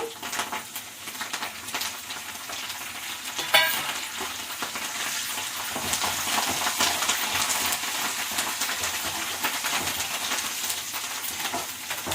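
Curry leaves crackle and sizzle in a pan of hot oil while dal with chukkakura is cooked, giving a dense, steady frying hiss with a brief sharp clink partway through, close and without talk.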